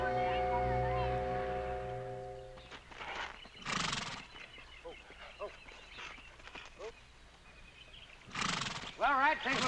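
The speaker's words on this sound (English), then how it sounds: "Beautiful horses." Horses whinny in loud bursts near the start and again at the end, with quieter rustling and hoof sounds between.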